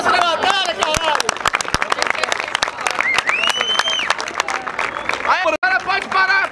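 A crowd claps at a Brazilian rap battle final at Batalha da Aldeia in Barueri, São Paulo. The claps are sharp, uneven and steady, with voices and speech over them throughout.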